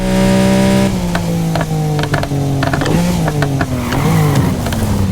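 A car engine in the racing video game Need for Speed Heat revs loudly and continuously, pitch climbing and dropping with gear shifts, sharp exhaust crackles popping throughout.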